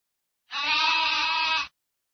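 A single sheep bleats once, a loud, close, wavering cry lasting about a second, with silence on either side.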